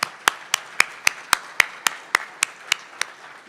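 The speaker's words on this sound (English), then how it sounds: "A round of applause for all of you here today." At an annual charity breakfast, sharp, evenly spaced claps ring out in a steady rhythm, about thirteen distinct strikes over three and a half seconds, sounding like one or a few people rather than a full crowd.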